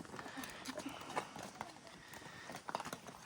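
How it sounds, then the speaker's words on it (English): Horses clip-clop on their way back down to the field, hoof strikes irregular and fairly close, mixed with background voices and yard noise. "Horses everywhere today."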